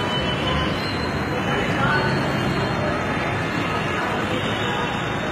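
Delhi metro train at Mundka metro station, a steady loud rumble of wheels on rails with a constant roar throughout, no talk heard.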